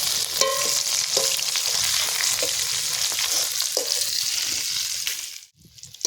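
KFC-style chicken pieces fry in hot oil in a village kitchen, a dense continuous sizzle with occasional stirring clinks, dropping away abruptly near the end as the pieces are lifted out.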